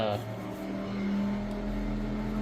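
A steady low mechanical hum with a droning tone runs throughout, like a heater blower, loud enough to crowd the room.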